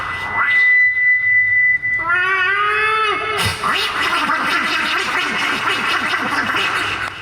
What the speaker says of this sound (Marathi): आता रात्रीची वेळ 2 मांजरं भांडण करत आहेत.